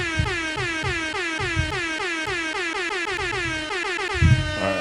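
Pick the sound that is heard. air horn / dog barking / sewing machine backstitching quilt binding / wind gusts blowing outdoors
air horn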